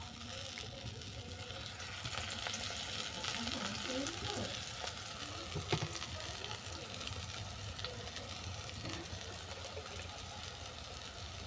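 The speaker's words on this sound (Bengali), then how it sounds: "দেখো সুন্দরভাবে ভাজা হয়েছে না?" A hilsa fish roe roll fries in white oil in a pan, making a quiet, continuous sizzle with occasional stirring and scraping sounds.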